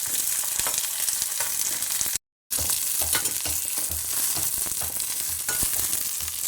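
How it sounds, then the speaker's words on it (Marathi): Green chilies and garlic roast in a little oil in a pan for spicy kharda, giving a steady, loud crackling sizzle with soft stirring taps throughout and a brief cut of silence partway through. "लसूण घालायचे भाजायला थोडंसं तेल घालायचं म्हणजे चांगलं भाजते लगेच भाजतात मिरच्या"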